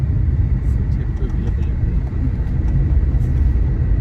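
A car rolls along the road with a constant low engine and tyre rumble heard from inside the cabin on the way to Heathrow airport, steady throughout, with a voice talking over it.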